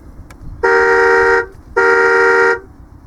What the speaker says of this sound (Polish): Jest prawdziwy klakson, naprawdę można kogoś odstraszyć idącego gdzieś tam na chodniku